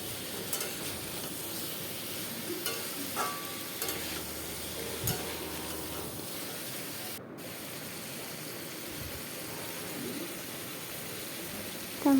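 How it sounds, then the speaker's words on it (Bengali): Mixed vegetables with eggplant and stalks and green chilli fried in a pan, a continuous low sizzle with occasional scraping stirs, close and moderately quiet, with no talking. "বেগুন আর ডাঁটা। ওগুলো একটু ভালো করে নেড়ে নেব।"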